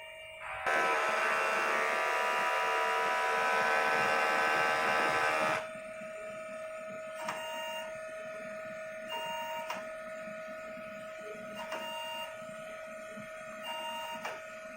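DTF printer running a head cleaning cycle, first a loud whirring pump or motor burst for several seconds, then a steady electronic tone with periodic soft clicks and beeps, close with no talk.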